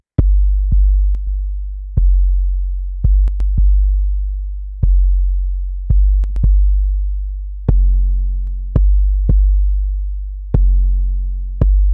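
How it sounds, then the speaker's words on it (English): Deep booming 808 kick drum hits, processed through a Nanopulse transient designer, repeat in an uneven pattern, each a loud punchy thump with a long sustained low tail, alone. "I want you to hear what the Detector is doing with this 808 kick drum."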